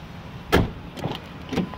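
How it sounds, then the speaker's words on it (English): Rear doors of a 2002 Ford Explorer Sport Trac 4x4 opening: a sharp latch clunk, then two softer door thuds and rattles close by, each short and separate. "Let me open the rear doors up."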